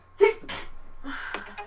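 A person sneezes once, a short sharp burst in a quiet room during a tabletop role-playing game session. Softer breathy sounds and murmuring follow.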